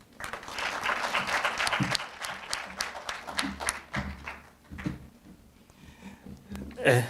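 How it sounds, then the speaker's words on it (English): An audience at a lecture claps in a dense burst that gradually thins into scattered claps and fades. "please, a warm round of applause"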